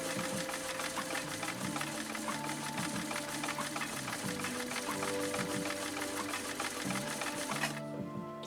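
A renewed 1972 Kenmore 1318 sewing machine zigzag-stitches through two layers of elk hide, a loud, close, continuous mechanical chatter with a rhythmic knocking pulse that runs nearly the whole time before cutting off at the end.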